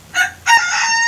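A long-tailed rooster kept in a bamboo coop crows close by and loud, a short opening note followed by a longer, strained drawn-out call, with nothing else heard.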